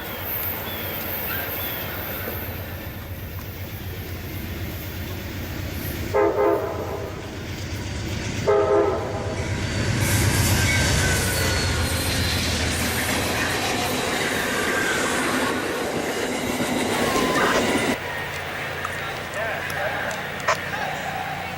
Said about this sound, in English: The train came around the bend to Chicago, Illinois at a high speed of at least 65 miles per hour.